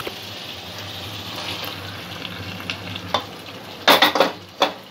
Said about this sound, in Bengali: এবারে এই মটরটা আমি এর সঙ্গে যোগ করে দেব।